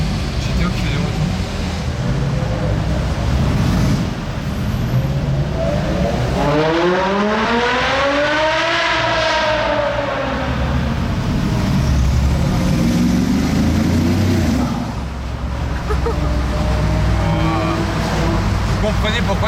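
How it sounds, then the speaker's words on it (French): A Ferrari GTO supercar's V12 revs up in one long rising sweep and falls back, loud and close, while people talk over the engine. "Le V12, là, comment il résonne, comment il monte dans les aigus, c'est dingue."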